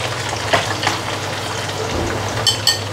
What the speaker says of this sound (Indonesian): Ampun deh, saya paling gak suka deh goreng ini.